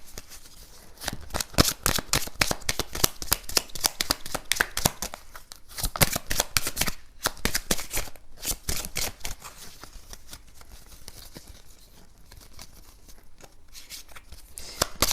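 Tarot cards are shuffled continuously for a card draw, a rapid, close, papery flutter of riffles and slides that keeps going with only brief pauses.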